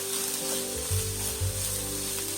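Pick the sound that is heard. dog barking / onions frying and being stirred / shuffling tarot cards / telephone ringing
onions frying and being stirred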